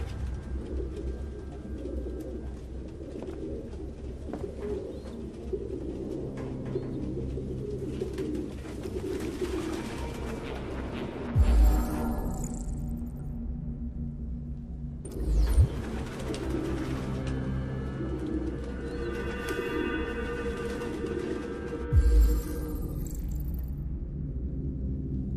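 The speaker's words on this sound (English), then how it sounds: "No human could live with all these fucking pigeons." Pigeons cooing in the video game Detroit: Become Human, repeated soft rolling coos over a low ambient rumble, with a few sharp thuds and interruptions, fairly near and continuous.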